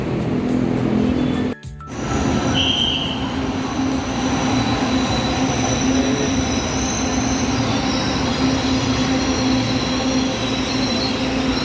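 A train rolls steadily along rails with a constant rumble and a sustained wheel squeal tone, loud and close throughout, briefly dropping out near the start, with no talking.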